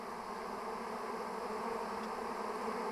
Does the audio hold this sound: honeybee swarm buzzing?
yes